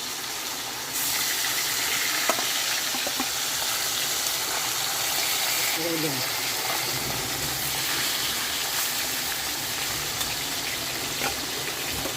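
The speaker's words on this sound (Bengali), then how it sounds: "আমি মাছগুলো এখানে হালকা ফ্রাই করব।" Hilsa fish pieces lightly frying in hot oil in a home kitchen, giving a steady, close broadband sizzle and hiss that runs throughout, with a brief utensil clink midway.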